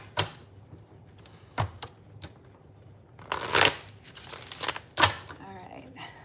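Tarot cards shuffled in short riffling bursts, close and crisp, with a few separate flicks and snaps and talk around them.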